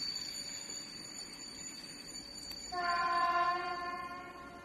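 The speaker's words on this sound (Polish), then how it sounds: "Za chwilę będzie jechać inny pociąg." A train rumbles past steadily at Tarnów, Poland, then a loud sustained horn blast sounds with rich harmonic tones, continuing over the rolling noise.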